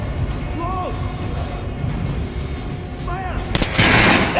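Gunfire at an armored target dummy in the video game Metro: Last Light Redux, with a few sharp shots and metallic impacts over background rumble, ending in a louder burst.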